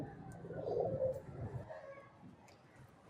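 A female pigeon coos in a low, soft burbling call, heard up close and fairly quiet, with a few faint chirps in the background.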